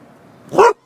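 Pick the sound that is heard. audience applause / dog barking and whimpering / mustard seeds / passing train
dog barking and whimpering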